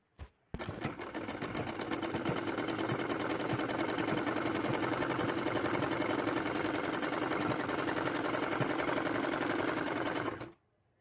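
Stitching a palazzo seam in simple fabric, a sewing machine whirs in a steady rapid rattle for about ten seconds, starting after a short click and stopping cleanly at the end.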